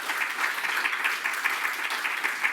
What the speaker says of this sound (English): A great applause to you.